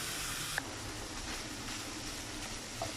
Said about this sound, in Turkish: Kıymayı yağsız bir şekilde kavuralım.